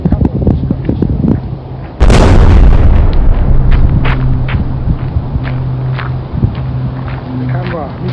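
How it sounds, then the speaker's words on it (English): Gunfire erupts with a sudden loud blast near the start, followed by scattered sharp shots and booms over a rumbling background. "Can't you hear the gunfire?"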